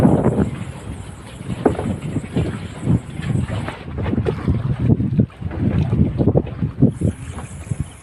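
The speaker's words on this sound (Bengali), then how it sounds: "জাল টানতে টানতে একটু বাতাস উঠে গিয়েছে, সেই জন্য একটু ঢেউ হচ্ছে" Wind gusts and choppy waves on the Hooghly river wash around a fishing boat in a continuous loud rumble with wind buffeting the microphone, and no talk.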